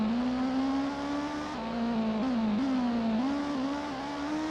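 A Nissan R32 race car engine in Gran Turismo, a loud sustained drone whose pitch wavers and dips with gear changes, close and continuous with no voices.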